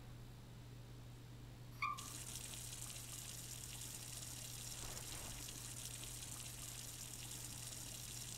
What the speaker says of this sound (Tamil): சரி ஓகே தண்ணியை மட்டும் குடிப்போம்.